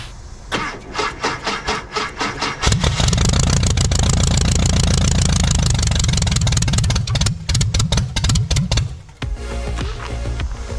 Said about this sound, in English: Now I gotta take care of that before I try to turn the engine over.